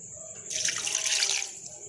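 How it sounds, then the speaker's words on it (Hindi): Water poured into a pressure cooker with spices while making beef shami kabab, a short splashing gush that starts abruptly and fades after about a second, close and fairly loud. "अब मैं इसमें 2 से 3 कप पानी डाल दूंगी।"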